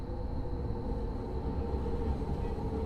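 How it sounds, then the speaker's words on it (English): A train passes in Train Simulator Classic, a steady loud rumble with a constant engine drone running for the whole stretch and no voices. "So there's one of the new trains that have been added just there, actually."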